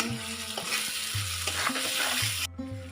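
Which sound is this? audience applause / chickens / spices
spices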